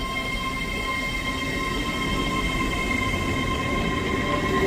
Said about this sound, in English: And departing out now is the 385009.